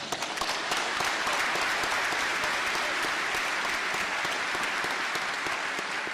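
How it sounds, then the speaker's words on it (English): An audience at a Navy Recruit Training Command change of command ceremony gives a sustained round of applause, dense steady clapping from a large crowd throughout. "Thank you for the round of applause there."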